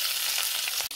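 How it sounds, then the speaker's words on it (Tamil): Mustard seeds and cumin crackle in hot oil, a bright dense sizzle lasting about a second with one sharp pop near the end. "ஸ்பூன் எண்ணெய் சூடாயிடுச்சு. இப்போ கடுகு சீரகம் சேர்த்துக்கோங்க."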